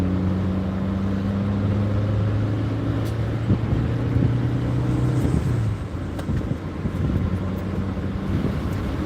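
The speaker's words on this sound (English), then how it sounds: "Oh, that wind feels so good." Wind buffets the microphone while riding a Harley motorcycle, a constant rushing roar layered over a droning engine hum that shifts partway through, loud and close, with no talking.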